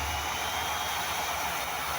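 A new sensor-activated hand dryer blows a steady, even rush of air, close and constant, with no voices.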